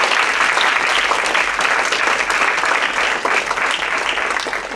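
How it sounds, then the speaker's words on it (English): A class bursts into dense, sustained applause, many hands clapping together in a thick continuous wash that stays loud and close from start to finish. "I think you should get an applause."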